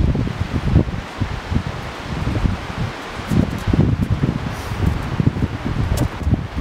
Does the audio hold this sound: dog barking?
no